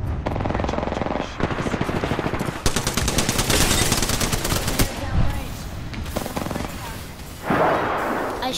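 Rapid gunfire in Apex Legends crackles in dense automatic bursts throughout, close and loud, with a heavier blast near the end and faint talk underneath.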